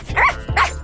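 A dog in an animated series barks twice, close and loud, two quick gruff woofs with nothing else around them.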